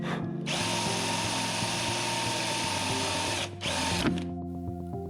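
A power drill bores a hanging hole through a wooden cutting board, whining steadily up close, then dropping out briefly before a short final burst and a spin-down.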